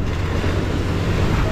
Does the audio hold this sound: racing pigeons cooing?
no